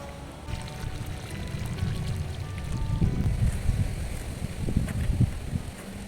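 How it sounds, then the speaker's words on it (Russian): Water poured onto freshly planted young trees, a continuous outdoor splashing and gushing with low rumbling surges and some wind noise, no voices. "Теперь хорошо зальем водой, чтобы вся земля здесь пропиталась и деревья хорошо принялись."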